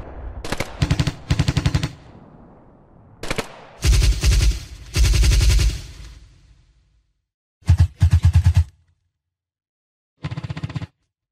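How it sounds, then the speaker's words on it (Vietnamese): Rapid bursts of 25mm Bushmaster cannon fire from a Bradley fighting vehicle during combat in the Donetsk area, with several loud, sharp volleys separated by silent gaps. "Bradley khai hỏa và biến nồi thịt thành nó. Pháo Bushmaster thật đáng kinh ngạc."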